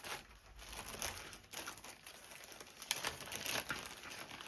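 Boo-boo tape crinkling and rustling as it is handled and pressed onto paper, close and quiet, with soft irregular crackles and a few small taps.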